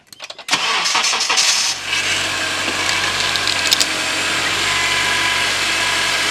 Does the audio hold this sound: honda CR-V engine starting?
yes